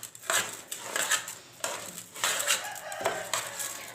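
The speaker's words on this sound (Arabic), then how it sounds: "عندنا يا حبايب قلبي فراخ" Indian chickens (turkeys) clucking and rustling nearby, with scraping and clattering noises mixed in, continuous and moderately quiet with no talking.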